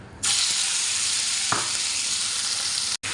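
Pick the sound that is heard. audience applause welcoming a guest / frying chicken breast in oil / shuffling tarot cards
frying chicken breast in oil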